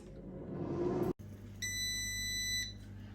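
One long electronic air fryer timer beep sounds steadily for about a second, near and clear, over the low hum of the running fan.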